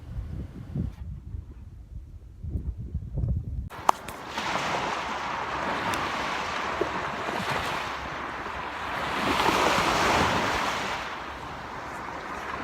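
Ocean waves on a beach: after a few seconds of low rumbling wind noise, a continuous broad wash of surf swells and recedes, fairly loud and close, with no talking.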